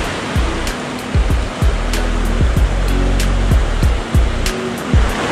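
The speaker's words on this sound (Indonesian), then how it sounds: "Mungkin air terjun dia kuat sangat." A powerful waterfall roars along a jungle stream while spearfishing for sebarau, a steady loud rush of white water with occasional dull low thumps underneath.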